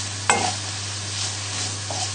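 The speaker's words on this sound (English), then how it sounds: "so we're going to get a bit of colour on the bacon" Smoked bacon frying and being stirred in a pan, a continuous close sizzle with a sharp scrape of the utensil early on and another stir near the end over a low steady hum.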